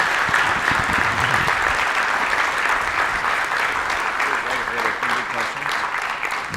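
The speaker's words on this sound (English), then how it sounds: "Let's give another round of applause for Dre." A conference audience at a web security talk applauds after the presentation, steady dense clapping that fills the room throughout, with some voices mixed in underneath.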